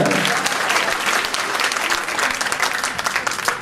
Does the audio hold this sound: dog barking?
no